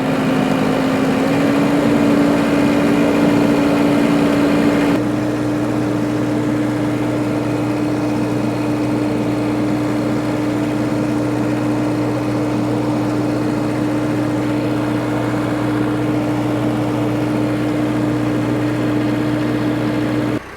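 A new four-wheel-drive tractor idles with a steady, loud engine hum, heard close from a loader-mounted mic; the drone settles into a slightly different tone partway through and holds evenly.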